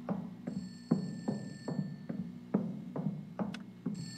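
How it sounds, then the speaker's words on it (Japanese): A telephone rings on and off inside an old school building in the horror game Hanako of the Old School Building, with repeated rhythmic rings over faint footsteps and a thin background tone, and no talking. "めっちゃ電話鳴ってる。"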